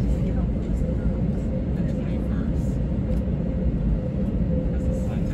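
Inside a Delta Airbus A321neo taxiing at Phoenix Sky Harbor Airport onto runway 7 left, a steady, loud cabin rumble of engine and rolling noise hums without letup.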